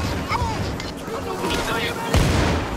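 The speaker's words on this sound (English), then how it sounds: "Gunship firing!" Helicopter gunship firing in the video game Payday, a dense continuous roar of heavy gunfire with booming impacts, loud and close, with voices shouting over it.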